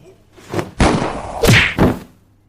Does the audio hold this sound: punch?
yes